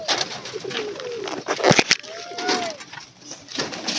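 Pigeons kept in a coop coo in low, rolling calls, one longer swelling coo standing out near the end, with a few sharp knocks or clatters midway and faint background noise.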